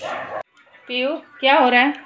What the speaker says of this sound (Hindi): यहाँ पे कुत्ता भी भौंक रहा है बेचारा